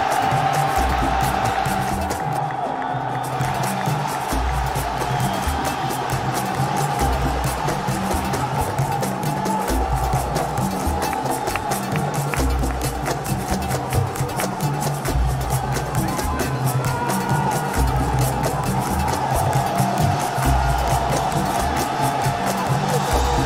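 A packed arena crowd at the Lima Major Dota 2 esports event roars and cheers continuously and loudly for the home team, a dense sustained wall of noise with a commentator talking over it.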